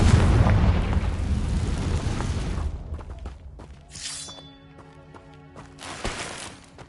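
A Confringo blasting spell in Hogwarts Legacy goes off as a loud, rumbling explosion that fills the first three seconds, then decays into scattered crackles and a second, smaller burst near the end.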